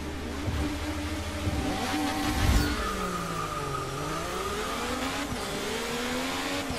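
An IndyCar single-seater engine in the Forza Motorsport 6 racing game screams loudly throughout, its pitch sweeping up and down with gear changes and revving, with no talking over it.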